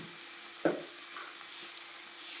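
Onions frying in a pan for an egg fry give a faint, steady sizzle, broken once by a single short knock of a utensil.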